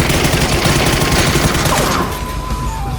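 Gunfire in the video game PUBG, rapid dense bursts of shots that fill the first two seconds loudly and then cut off, leaving quieter game ambience.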